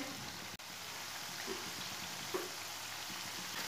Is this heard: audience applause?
no